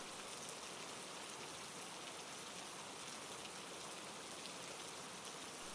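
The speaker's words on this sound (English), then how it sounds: "The rain carries on its steady, soft fall, a continuous and unchanging presence." Gentle, steady rain falling, an even, soft hiss of countless drops on surfaces that stays unchanged throughout, quiet and with no voices or other sounds.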